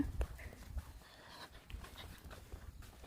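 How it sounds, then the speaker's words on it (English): Horses led out on a walk outdoors, with faint, scattered hoof clops at a distance under quiet ambient noise. "Someone's bringing their horses out"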